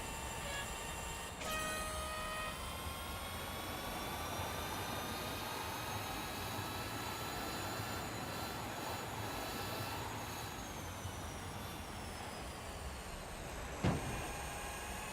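A Porsche Taycan Turbo GT racing at Daytona in Real Racing 3, heard as a steady, quiet electric whine with slowly rising and falling tones over a constant rushing hum, broken by one sharp knock near the end.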